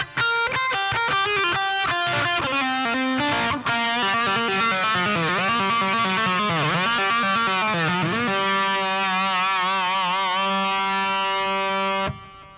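Gritty, distorted electric guitar runs through a swung classic rock lick starting on the and of 3, with bent, wavering notes, then holds a long vibrato note before cutting off abruptly.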